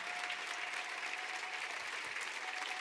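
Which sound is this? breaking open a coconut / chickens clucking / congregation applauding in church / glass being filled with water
congregation applauding in church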